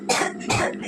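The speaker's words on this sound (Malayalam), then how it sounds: "ഭയങ്കര ചുമ." A patient with two days of cough, headache and chest pain coughs twice at a doctor's visit, each a harsh, close burst.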